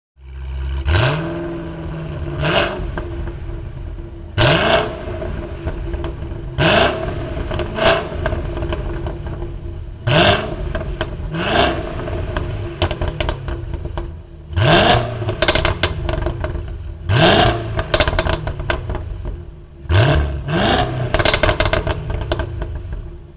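A Cadillac CT5-V Blackwing's 6.2-liter supercharged V8 is revved repeatedly, about a dozen sharp blips rising and falling with a brief idle between each, loud and close with no talk.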